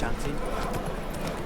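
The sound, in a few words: horse hooves clip-clopping in video game Witcher 3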